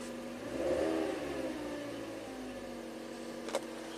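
The engine of a faulty Toyota Camry turns over and catches with a brief rise in revs, then settles into a steady, low idle. A short sharp click sounds near the end.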